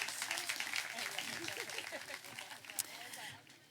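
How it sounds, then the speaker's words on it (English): Audience at a trail ultramarathon event applauds Ruth Croft, a soft scattered round of clapping under ongoing talk, fading toward the end. "Massive round of applause for Ruth Croft."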